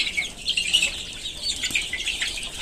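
Desi chickens kept for meat chatter and cluck softly together in a close, busy murmur of short calls, with no talking.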